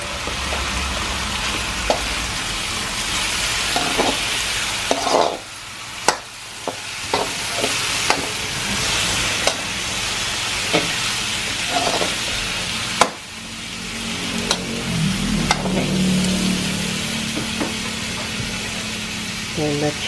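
Chicken hearts fry in a pan for adobo, a continuous hiss and crackle interrupted by a few sharp utensil clicks and brief dips, with a low hum running underneath.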